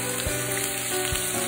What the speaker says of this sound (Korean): 가운데에 오징어를 넣고 볶다 같이 섞어줍니다